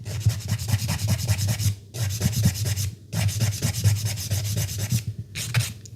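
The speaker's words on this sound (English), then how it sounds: "of going with my file at an angle as opposed to being straight like this" A nail file rasps back and forth in quick repeated strokes while shaping acrylic nail tips, close and steady, in three bursts separated by brief pauses.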